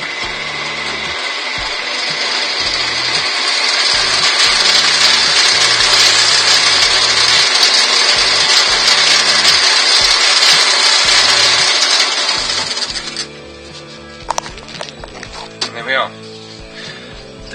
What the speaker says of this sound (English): Crank the lathe up.